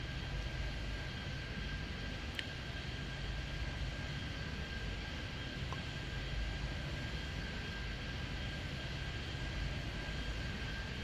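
Airplanes landing at O'Hare in an air traffic control game, a steady broad jet engine roar and rushing hiss running throughout, with a faint ping partway through and no voices.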